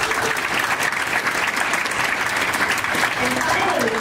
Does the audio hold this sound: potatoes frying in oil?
no